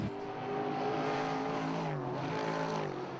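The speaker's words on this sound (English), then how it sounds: "Listen to those huge V8." 1960s GT race cars with big V8 engines roar past at Brands Hatch, a loud, rising and falling engine snarl with a pitch sweep as one car goes by and others follow.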